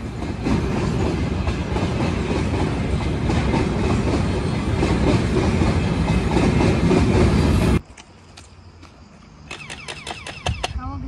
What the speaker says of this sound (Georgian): მატარებელია.